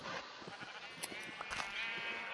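Sheep in the Minecraft video game bleat in a steady run of short calls over a constant bright hiss, with no talking.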